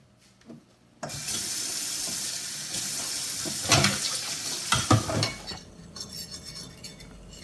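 Water runs steadily from a kitchen tap into the sink during dishwashing, a continuous hiss that begins abruptly and is broken late by clinks and clatters of dishes before the flow stops.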